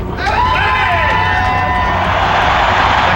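Basketball arena crowd at a Lakers playoff game in the 1999-2000 season roars and screams in a dense, loud wall of cheering, with a whistle-like whoop rising at the start.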